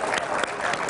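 Studio audience applause, a dense, steady patter of many hands clapping together, fairly loud and close, filling a short burst without pause.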